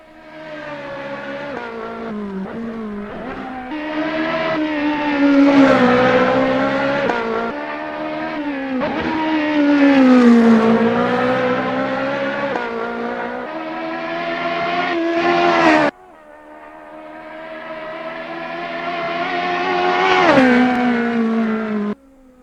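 A Ferrari 458 S3 race car in Assetto Corsa wails up and down through the revs. Several shrill climbs are each broken by a quick shift or a lift, loud and up close, with no voices.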